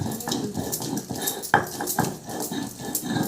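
Garlic and onion are crushed on a stone grinding slab, a rhythmic run of gritty scraping and knocking strokes repeating close by without pause.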